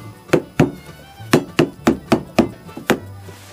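Series of about eight sharp, fairly loud wooden knocks and thunks in an uneven rhythm, made while working on a 1947 Johnson 5 hp TD-20 outboard motor during reassembly after paint, with a lid being closed.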